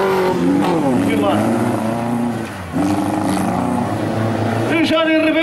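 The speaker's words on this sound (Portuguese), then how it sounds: "E o Jónio Ribeiro conseguiu destruir uma embreagem em duas voltas." A Stock Car race car laps a circuit at Cabeço de Mira, its engine note loud and close, rising and dropping through gear changes, with a brief dip in level midway before the car climbs back up to full power.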